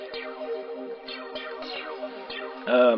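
A bright, buzzy wavetable synthesizer in Ableton Live plays a run of short notes with shifting timbre, each attack slightly different, ending on a louder, fuller chord.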